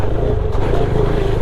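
A KTM 390 Adventure motorcycle fitted with a skid plate climbs and bounces over rocks off-road, its engine droning steadily and loud throughout with a continuous low rumble.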